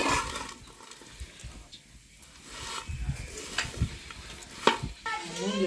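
Coconut chili powder frying with bitter gourd in a pan, a soft, fairly faint sizzle with intermittent stirring scrapes and clinks and some low background rumble.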